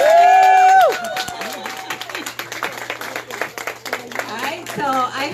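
Applause and some cheering from the audience at a fundraiser rise under a loud voice and a sustained tone at the start, then continue in uneven bursts with talking mixed in.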